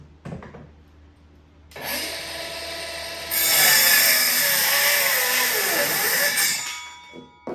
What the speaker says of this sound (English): just hold it in place and go ahead and cut it.